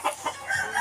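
A large backyard-bred chicken of about 3 kilos clucks close by in a few short, irregular bursts, with some higher crowing-like notes toward the end.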